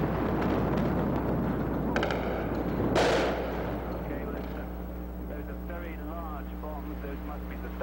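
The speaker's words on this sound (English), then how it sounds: "Much larger explosions than last time." Large explosions shake Baghdad during the March 2003 bombing, a few heavy booms and a sharp blast standing out over constant rumbling background noise, heard from a distance.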